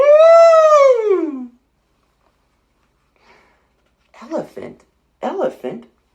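People imitate an elephant trumpeting with a long, loud rising-and-falling call, followed after a pause by a few shorter, softer vocal bursts.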